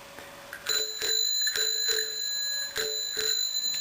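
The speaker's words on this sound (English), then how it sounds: "So the reason it's geared so much is that you only have to move the lever a little bit and it spins the ringer quite fast" A homemade geared twist doorbell rings with a fast-spinning ringer, producing a bright metallic ringing that comes in a series of quick repeated strikes with sustained overtones, loud and close.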